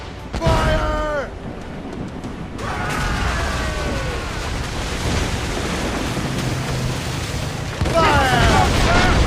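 Heavy mortar blasts and cannon booms during a naval battle in Assassin's Creed Rogue, deep rumbling explosions over wind and sea noise, with shouted voices at the start and end.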